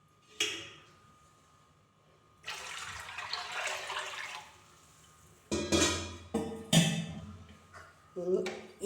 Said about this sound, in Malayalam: അപ്പോൾ ഇതിന് 2 പാത്രം വെള്ളം ഒഴിക്കുന്നുണ്ട്.